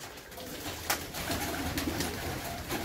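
Domestic pigeons, including white and marbled birds, cooing inside a loft, a steady low murmuring coo with soft wing and movement noises throughout, close and moderately loud, no talking.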